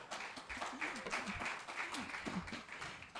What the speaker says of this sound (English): We clapping for y'all because y'all look amazing